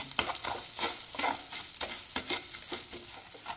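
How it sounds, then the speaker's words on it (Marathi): Vermicelli being stir-roasted in a pan for sheer khurma, with a steady, close scraping and stirring texture and light sizzle throughout, in short repeated strokes with no talk. "आता आपण हे भाजून घेऊया 1 मिनिटभर व्यवस्थित परतून"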